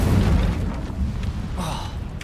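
Incendio fire spell cast in Hogwarts Legacy, a brief low rumbling burst of flame that swells and fades over about two seconds, with a short whoosh near the end.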